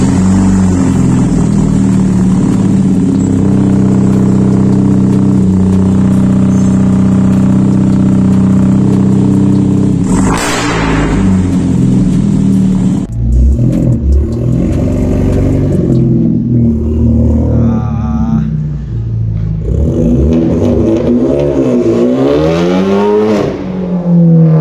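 A Hyundai Genesis Coupe fitted with a hybrid turbo and a new downpipe revs hard. A loud, sustained engine drone rises and falls through several throttle blips and sweeping pitch changes, up close with no voices.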